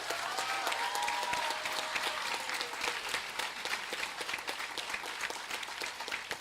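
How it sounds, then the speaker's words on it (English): A graduation ceremony crowd claps steadily throughout, a dense, moderately distant round of applause with no talk over it. "How about a round of applause for all of us as a Sanborn community?"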